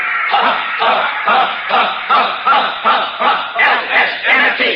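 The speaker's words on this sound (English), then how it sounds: "Hey, listen to the cheering section" A cheering section of a crowd at a Rose Bowl football game, heard as rhythmic, repeated group chants in steady bursts, loud and fairly close, with no individual talk above it.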